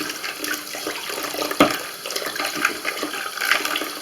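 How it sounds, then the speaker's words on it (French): Running water splashes steadily while a drain part clogged with greasy food residue is scraped and rinsed under a sink tap, with one sharper knock partway through. "on gratte et on rince"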